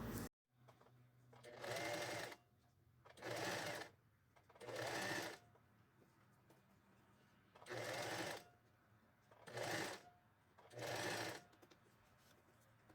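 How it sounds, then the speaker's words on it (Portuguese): A sewing machine stitches along the edge of bias binding on a sleeveless blouse in six short, quick bursts of whirring, separated by quiet pauses, fairly faint and with no talking. "vou passar uma costura bem na beiradinha, em cima do viés"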